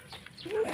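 A single short bark or yelp from a dog at a rural Philippine farm, brief and fairly close.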